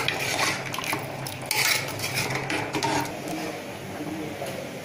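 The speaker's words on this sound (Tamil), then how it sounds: "சேர்த்து ஒரு தடவை நல்லா கலந்து விட்டுருங்க." A spoon scrapes and clinks against a cooking pot while potato and butter bean kurma with added water is stirred, producing irregular close metallic taps and swishing with faint background hiss.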